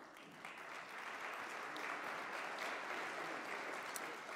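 Sustained applause from a conference audience at an ILO event, steady and full throughout as a guest minister is welcomed to the stage.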